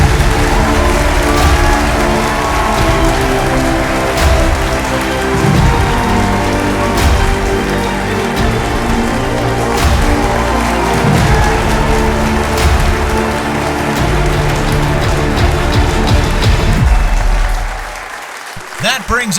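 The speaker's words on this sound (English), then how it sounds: "let's give a round of applause for our returning champion" An audience at a home-inspection game show applauds for a returning champion, loud and steady clapping that goes on for around eighteen seconds and then stops abruptly, with a voice faintly under the noise.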